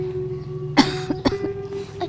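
An elderly woman coughs, a few short harsh bursts spaced over about two seconds, close and fairly loud over a quiet room hum, with no talking.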